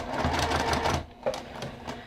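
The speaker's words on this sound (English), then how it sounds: "I'm going to stitch right up to that 1/4 inch mark that we made" A sewing machine stitching a blanket makes a quick, even mechanical rattle of needle strokes, then stops and gives a couple of short whirring bursts, close and clear.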